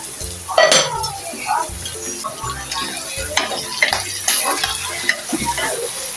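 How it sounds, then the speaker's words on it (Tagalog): Chicken liver and gizzards sauté in a pan with a continuous sizzle, punctuated by frequent scraping and clinking of a utensil stirring the meat against the metal. "igigisa po muna natin hanggang maluto yung ating atay at balon-balonan"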